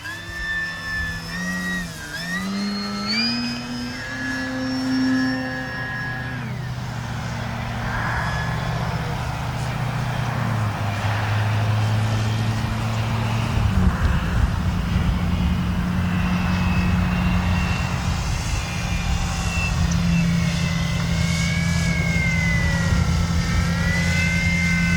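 Flex Innovations RV-8 G2 RC plane flying overhead, its electric motor whining in shifting tones that rise and fall as it passes and maneuvers, with no talking.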